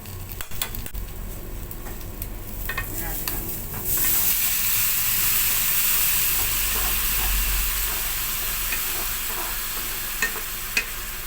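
Chicken adobo sizzles and fries in a pan, turning into a louder steady hiss partway through as it is stirred, with occasional scrapes and clinks of a utensil against the pan close by.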